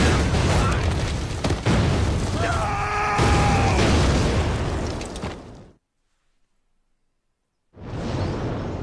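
Artillery barrage in a Band of Brothers war scene, loud booming explosions and whooshing debris with a brief shout, cutting to silence before the rumble resumes.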